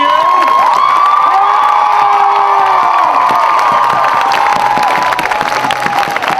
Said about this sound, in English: Now say thanks for your education by giving them a big round of applause